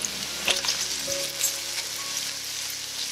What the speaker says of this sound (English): I'll add 4 tablespoons of the green seasoning to the oil.